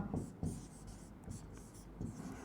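Pen writing notes by hand on paper during a Hindi biology lesson, a series of close scratchy strokes in short bursts with brief pauses between them and no talk.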